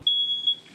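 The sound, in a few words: smoke detector beeping during testing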